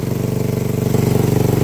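Raider 150 motorcycle engine, freshly overhauled with an open, leaky exhaust, running loud and close with a rapid, throbbing pulse that rises slightly as the throttle is blipped.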